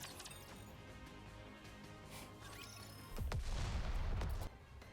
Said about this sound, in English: An explosion sounds from afar.